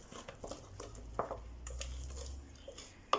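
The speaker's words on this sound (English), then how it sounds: "Scrape down the sides again. Give it a good mix." Banana bread batter mixed in a bowl with a spatula, faint soft scrapes, taps and wet squishing strokes close by, irregular and quiet, ending in a sharper knock, with no voices.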